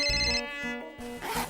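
A telephone rings indoors with a short electronic trill, two bursts of ringing followed by faint background noise, heard alone at moderate volume.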